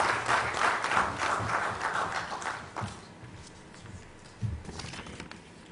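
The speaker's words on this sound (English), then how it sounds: "A round of applause for our Honorable Chief Minister" Scattered applause from a crowd at a conference in Goa, India, greeting the Chief Minister, rises for a few seconds, then thins to a few lingering claps that pick up briefly again near the end.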